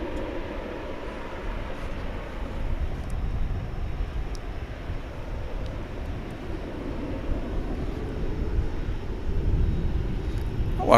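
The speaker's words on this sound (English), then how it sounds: "It's an A321. It's American Airlines." An American Airlines Airbus A321 arriving at DFW produces a low, distant engine rumble that holds steady and swells slightly toward the end, with a few faint ticks above it.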